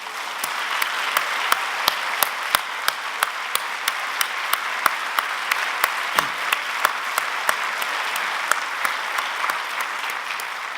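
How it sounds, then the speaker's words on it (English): A large audience gives a hearty, sustained round of applause for a board and executive committee at a law honoree event, dense clapping steady throughout with a few sharper claps standing out, no talk over it. "I would ask all of you to join me in giving them a very hearty round of applause"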